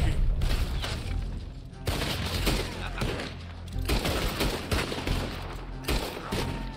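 Rapid gunfire in the video game Red Dead Redemption 2, a dense fusillade of shots and booms that fills the whole stretch, loud and continuous with bursts of heavier blasts and no voices.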